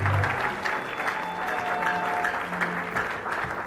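Steady crowd applause fills a funeral service for a church patriarch, a continuous dense clapping that holds evenly throughout.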